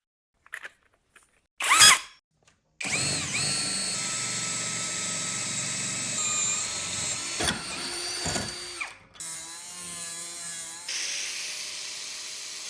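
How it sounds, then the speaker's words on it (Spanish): A 40 mm hole saw bores through metal for a pellet and wood stove lid, giving a steady high whining grind that runs for several seconds, with a short burst before it and shifting pitch near the end. "Con una corona de 40 milímetros de diámetro, perforaremos un agujero en el centro"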